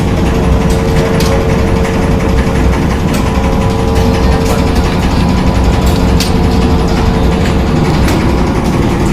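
Tea processing machine running inside a tea factory at Kolukkumalai, a loud continuous mechanical drone with steady hum and faint rattling clicks, no pauses.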